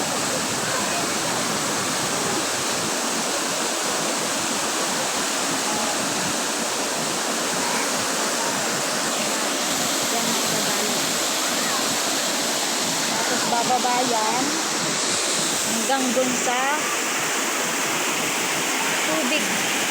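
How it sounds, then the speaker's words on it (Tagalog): Spring water rushes steadily down a channel at Lusuac Spring Resort in Lagayan, Abra, a loud continuous broadband roar, with someone talking briefly over it. "Ito ang tubig na dinadaluyan. Pababa yan."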